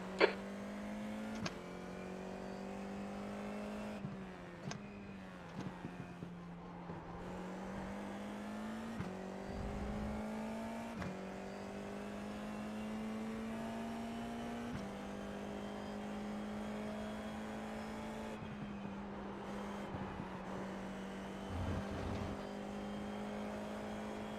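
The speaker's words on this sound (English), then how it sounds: "There's a car approaching." An IR-04 race car in iRacing at Fuji, engine droning steadily with shifting pitch as it runs, the tone dipping and climbing through gear changes over a long stretch with no talk.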